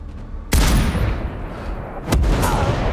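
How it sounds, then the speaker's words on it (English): Two loud, heavy explosions in the shooter game Sniper Ghost Warrior Contracts, the first blast rumbling for over a second and the second following shortly after, both close and booming with no speech. "Base, we have an explosion in Sector 4"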